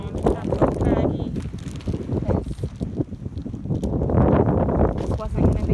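Wind buffets the microphone on a Captiva beach at low tide, a rough, steady roar rising and falling while people talk over it.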